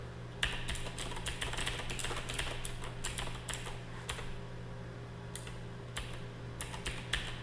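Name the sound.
pressing computer keyboard keys while testing a Sokoban game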